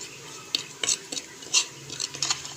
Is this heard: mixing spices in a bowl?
yes